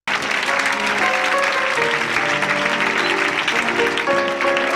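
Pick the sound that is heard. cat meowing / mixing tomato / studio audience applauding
studio audience applauding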